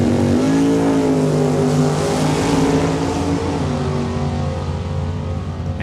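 A drag race car launches and runs the quarter-mile at Saskatchewan International Raceway in Saskatoon, a loud, sustained engine howl climbing through the gears and fading slightly as it pulls away, with no talk over it.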